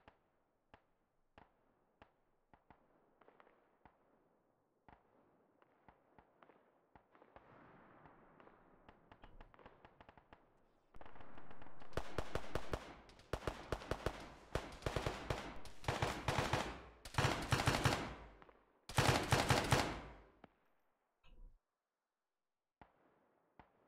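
Gunfire in Arma III: sparse single shots at first, then dense bursts of automatic fire and heavy volleys that hit hard and loud in the middle, then fading back to a few isolated cracks.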